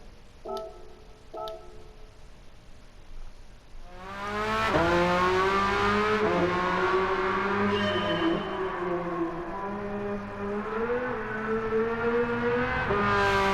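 Porsche 911 race car on soft sports tires in Gran Turismo 7, a loud engine revving hard through rising and falling gear changes with tire noise. Light ticking comes first, then the engine roars in from about four seconds.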